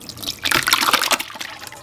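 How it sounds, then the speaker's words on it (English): A cooled mixture poured through flour cloth set in a colander over a bowl, a close liquid splash and trickle lasting about a second and a half, alone without talk. "she says to now pour it through flour cloth in a colander over a bowl"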